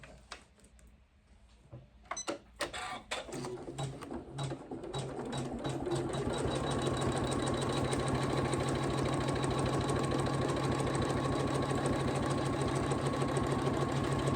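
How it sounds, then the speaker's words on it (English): A computerized embroidery machine stitches around a lined zipper bag along the zipper teeth, starting with a few scattered clicks and bumps before settling into a loud, steady, rapid needle chatter that runs continuously to the end. "It's going to sew all the way around your bag along the seam here where the teeth are."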